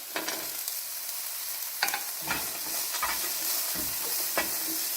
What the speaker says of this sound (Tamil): பச்சை மிளகா, வெங்காயம், இது மூணும் வதங்கி வரட்டும்